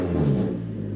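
A 100 mph RC car engine gives a brief light rev, a steady close-up rumbling whir with low harmonic bands that swells slightly and then holds for about a second, with no voices.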